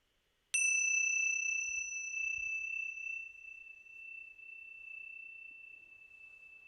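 A meditation bell struck once, a sharp clear strike followed by a pure ringing tone that sustains and slowly fades over several seconds, close and solitary in a quiet room.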